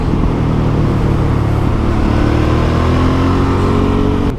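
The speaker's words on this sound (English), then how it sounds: "It's not the most powerful engine in the world, but it's got nice torque and pulls you out of these corners." A Suzuki V-Strom motorcycle engine pulls hard out of corners on a winding road, a loud, close, continuous drone whose pitch climbs steadily under acceleration, with no talking.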